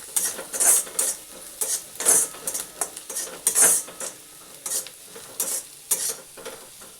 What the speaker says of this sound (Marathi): त्यामध्ये घालणार आहोत हळद आणि चांगलं मिक्स करून घेणार आहोत